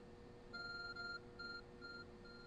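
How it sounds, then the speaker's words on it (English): The Arc Phone in the video game Pokémon Legends: Arceus gives a quiet series of short electronic beeps in an even rhythm over soft background music. "Your arc phone is beeping."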